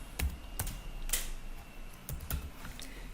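Scattered keystrokes on an American-layout computer keyboard click sharply at irregular intervals, a handful of taps close by over faint room noise, with no talking.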